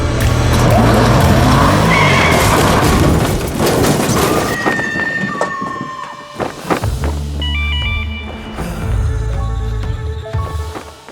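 Several SUVs drag race, among them a Rivian R1S Quad, Lucid, Porsche, Audi and Range Rover SV, in a loud, dense rush of engine and tyre noise that fades into scattered sharp tones and thuds.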